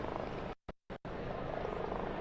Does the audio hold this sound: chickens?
no